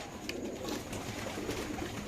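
A pair of Afsan grizzle pigeons coos softly in a cage at a pigeon farm, low steady murmuring under a constant background hiss with no talk.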